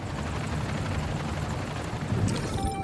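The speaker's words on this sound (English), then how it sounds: "Now let's stop this helicopter." A helicopter in Spider-Man: Miles Morales gives a steady whirring rotor drone that holds at an even level, with a brief mechanical clank near the end and no talking.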